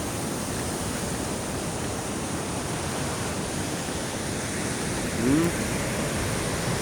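Big waves roll in during Typhoon Kristine, making a constant heavy roar of surf, with a brief faint vocal sound partway through.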